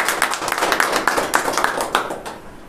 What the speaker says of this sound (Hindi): क्यों ना परमेश्वर के लिए हम जोरदार ताली बजाते हैं।